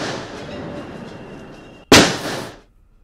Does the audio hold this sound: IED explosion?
yes